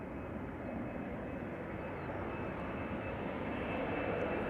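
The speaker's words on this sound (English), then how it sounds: "KLM Embraer 190 to London City." A KLM Embraer 190 jet passes during morning departures at Amsterdam Schiphol, heard as a steady, broad engine roar, moderately distant and alone.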